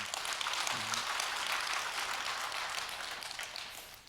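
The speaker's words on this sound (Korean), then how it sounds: "우리 젊은 두 친구를 위해서 여러분 박수 한번 해주세요" A congregation at a dawn church prayer service gives soft, steady applause for two young members, fairly quiet and fading slightly at the end.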